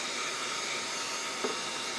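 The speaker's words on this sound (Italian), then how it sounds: "può risultare molto utile la funzione aspirapolvere per andare a togliere appunto la polvere ad esempio su dei mobili con questo scopino" A cordless mini compressor runs in vacuum mode with a soft brush nozzle for dusting furniture, giving a steady, even whirring hum close by without talk.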